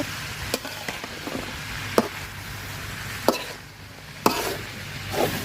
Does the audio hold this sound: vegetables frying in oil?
yes